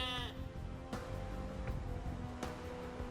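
Sheep bleat in the video game Age of Empires II, a wavering bleat at the start followed by a few sharp clicks over a steady low game hum.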